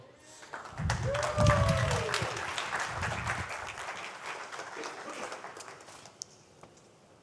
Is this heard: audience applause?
yes